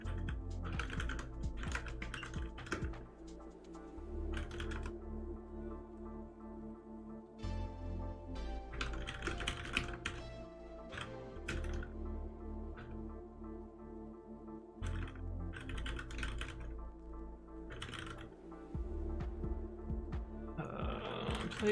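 Steady typing on a computer keyboard runs close and continuous while code is written, with rapid clusters of keystrokes broken by brief pauses over a low background hum.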